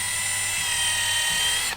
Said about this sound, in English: you don't need to push down too hard either with the drill, or in this case, the impact driver